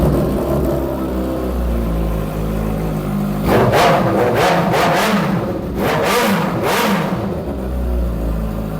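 A 2017 heavy motorcycle fitted with a CST exhaust idles with a deep steady rumble, then is revved hard in several sharp, loud bursts before settling back to idle.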